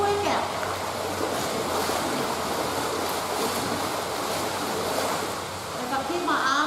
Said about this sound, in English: I'm pushing the water out and pulling the water in